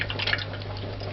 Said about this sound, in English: and allow the water to drain.